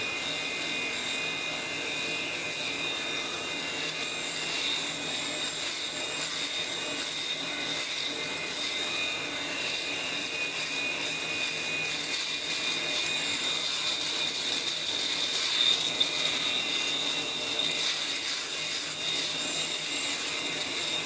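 A steady buzzing whir with a gritty, crackling texture runs continuously at close range as Norelco rotary electric shaver heads cut through stubble.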